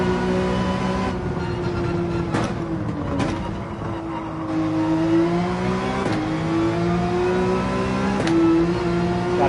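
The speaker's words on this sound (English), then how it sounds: "Gotta remember to rev out the 911." Porsche 911 race car engine in Gran Turismo 7 GT3 racing at Trial Mountain, revving high in steady sweeping pitch climbs with brief breaks at upshifts, loud and continuous throughout.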